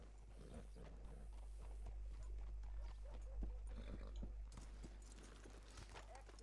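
Hooves clop in the open-world western video game Red Dead Redemption 2, faint irregular hoofbeats over a heavy low rumble and ambient game noise, with soft voices in the background.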